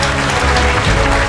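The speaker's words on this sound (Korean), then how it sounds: "우리 목사님 박수로, 큰 박수로 모시겠습니다" A packed church congregation at a London missionary conference gives loud, sustained applause to welcome the pastor, a thick continuous wash of clapping with no pauses.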